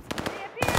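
Pistol shots ring out in a Call of Duty-style video game, a quick burst of sharp cracks, near and loud, with talk in the background.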